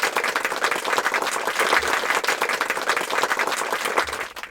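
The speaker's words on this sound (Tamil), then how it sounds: "எல்லாரும் கைத்தட்டுங்க எங்க 2 பேத்துக்கும்." Steady applause for the winners of a children's game, with a group clapping continuously and densely at fairly close range for several seconds and no talk over it.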